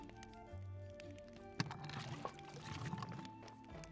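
Water is poured in Graveyard Keeper, a soft splashing trickle that builds over a couple of seconds against quiet game background sounds, faint and close.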